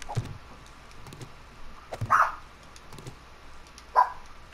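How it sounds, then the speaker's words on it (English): Dogs barking outdoors at night, two distinct barks spaced apart, moderately loud against a faint background with a few soft knocks. "There goes the dogs barking at something again"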